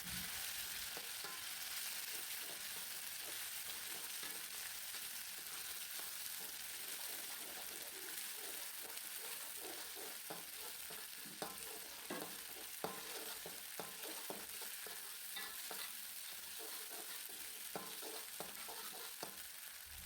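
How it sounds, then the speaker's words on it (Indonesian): Ground chili spice paste for telur balado, an Indonesian chili egg dish, sizzles steadily as it fries in a pan, with scattered scraping stir strokes growing more frequent over the steady hiss, close-miked and moderately quiet. "Selanjutnya ditumis bumbu yang udah diulek tadi. Nah, bumbunya ditumis dulu sampai wangi."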